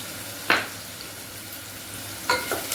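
Green peas and potato with salt are stirred in a pan, giving two short scraping clatters of a spoon against the pan over a soft, steady sizzle.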